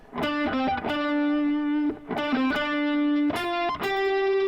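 A distorted electric guitar plays a short repeating hook with pitch bends, the phrase played twice, loud and close with no talking.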